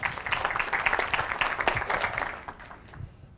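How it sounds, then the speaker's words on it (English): Audience applause for a presenter named Diane at a business talk, moderate and steady for a few seconds before tapering off, with a faint voice in the background. "Round of applause for Diane"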